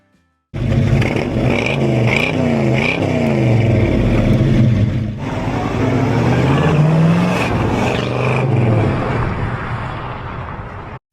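A 1971 Chevy Chevelle with a 454 big block and 4-speed manual rumbles loudly and steadily, with a few revs rising and falling over the idle and a brief dip midway.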